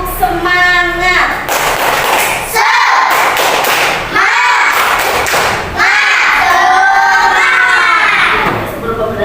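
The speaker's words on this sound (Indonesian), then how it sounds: "tepuk semangat" Schoolchildren in a classroom perform a rhythmic spirit clap, a loud group of hand claps and thumps in a patterned beat, with voices chanting and talking alongside throughout.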